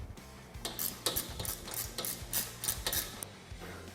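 A ratchet wrench clicks in quick repeated bursts as bolts are fully tightened on an adapter plate while installing portal gear lifts on a Polaris RZR Turbo S, close and mechanical with brief pauses.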